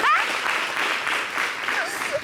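Studio audience applause on a French summer television talk show, a steady patter of clapping heard at moderate level with a few brief voices breaking through near the end.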